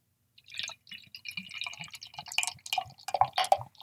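Founders Blushing Monk raspberry ale is poured from a bottle into a glass, giving quiet splashing and gurgling that turns into faint fizzing and dripping as the glass fills.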